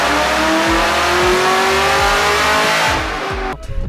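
A Chevrolet Camaro ZL1 1LE engine revs hard on a dyno, loud and close, climbing through repeated rising pulls with rhythmic low thumps before cutting off abruptly near the end.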